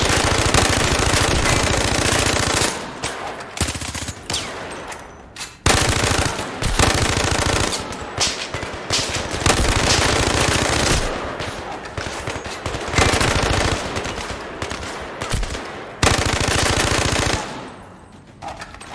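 A rifle fires in a VR shooter in long, loud bursts of rapid automatic fire, separated by brief pauses, with the shooting continuing for most of the stretch before it dies away.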